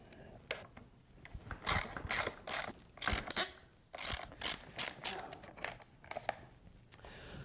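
Fast bursts of ratcheting clicks from a hand tool loosening motocross hand guard bolts, close and fairly loud, coming in short repeated strokes with brief pauses between them.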